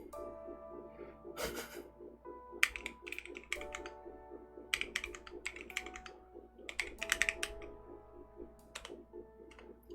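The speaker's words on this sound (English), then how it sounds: "I am never good at typing on split boards." Typing on a Lily58 split mechanical keyboard fitted with Boba LT linear switches: a quick, uneven patter of clacking keystrokes in bursts, close and fairly soft, with faint breathy sounds between them.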